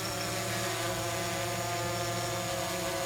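A DJI Phantom 3 drone hovers and turns counterclockwise, its propellers giving off a steady, close, continuous buzzing whine with layered motor harmonics and no pauses.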